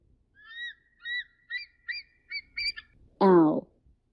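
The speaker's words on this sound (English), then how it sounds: "Eagle." An eagle gives a run of six short, high, thin piping calls at a steady pace, fairly quiet, followed by a louder, harsher, lower squawk near the end; no voices.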